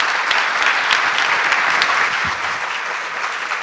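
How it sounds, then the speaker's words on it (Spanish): Steady, dense applause from a conference audience honoring the sustainability panelists, loud and continuous throughout with no gaps. "Un aplauso para nuestros panelistas."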